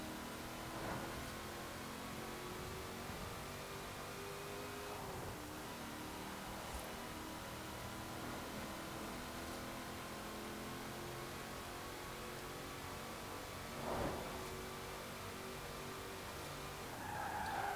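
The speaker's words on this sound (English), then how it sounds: "I'll just let you listen to this car, because it has a really rather unusual engine note to go along with the supercharger" A 2005 Ford GT's supercharged V8 from Forza Horizon 4, a steady engine drone with supercharger whine running throughout, with brief surges and tire noise near the end.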